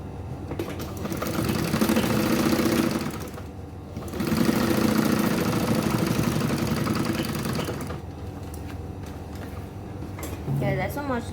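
A sewing machine stitches the gusset of a purse in a long steady mechanical whir that pauses briefly and then resumes.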